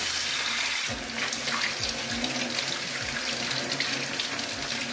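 A whole lobster scrubbed and scraped under a running kitchen tap while preparing a seafood boil, with a steady close water stream and repeated scraping and handling sounds beneath it, no talk.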